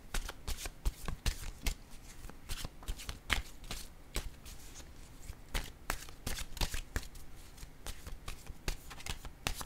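Playing cards shuffled and dealt during a tarot-style reading, giving rapid riffling bursts and sharp snapping flicks in an irregular rhythm, close and moderately loud with no talk over them.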